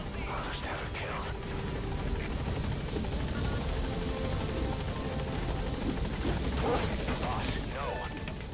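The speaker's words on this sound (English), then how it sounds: "I'll send the extraction chopper." Extraction helicopter in the Metal Gear Solid V video game, a steady rotor drone holding through the whole stretch beneath game sound effects and scattered voices.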